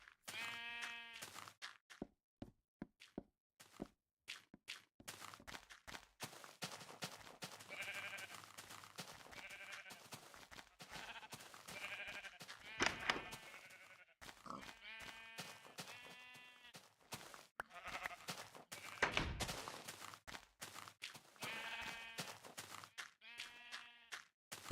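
Sheep bleat repeatedly in a pen inside the survival video game Reminiscence, with several overlapping calls scattered across the scene and soft knocks and footsteps between them.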